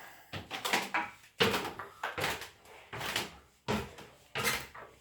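A wooden door in a house in Italy is handled and opened. A close series of about half a dozen knocks, rattles and thumps comes in uneven bursts, each sharp at the start and fading quickly.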